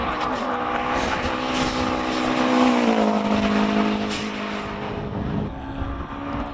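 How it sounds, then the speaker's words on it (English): A turbocharged four-cylinder Birkin 7 climbs a hillclimb course at a Cape Town speed event, its engine a continuous strained drone that rises and then holds steady, heard from close to moderate distance with no talk. "Birkin all the way up the hill. Turbocharged 4-cylinder."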